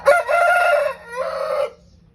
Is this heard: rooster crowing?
yes